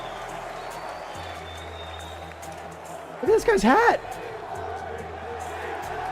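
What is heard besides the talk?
crowd cheering at esports watch party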